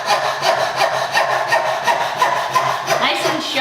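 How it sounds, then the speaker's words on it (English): A Florip Toolworks 9-inch dovetail saw rasps through wood in quick, even back-and-forth strokes, loud and close, with no one talking. "Taking a few cuts with this saw,"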